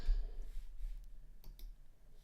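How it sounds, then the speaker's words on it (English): Quiet clicking of computer keyboard keys as a short word is typed in caps lock, a few light, irregular taps close by with no talking. "I'm going to hit my cap locks and type in the name of my animal"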